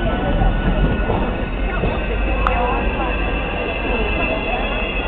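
A Class 225 electric train rolls into Edinburgh, a steady low rumble and hum of the carriages heard from nearby, with people talking over it.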